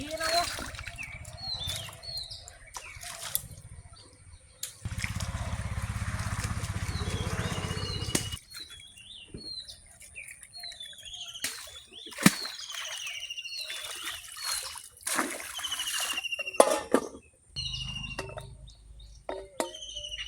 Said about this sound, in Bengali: ধুয়ে নেবো এই মাছটা ধুয়ে নিচ্ছি